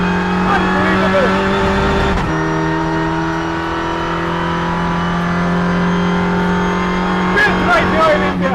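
A loud Volkswagen Polo race car engine drones at a sustained pitch, shifting once, with sharper revving bursts toward the end.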